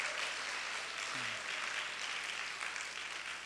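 Congregation applause in a church for its silver-prize-winning choir, a steady, fairly soft wash of clapping that fills the space, with a brief vocal sound partway through.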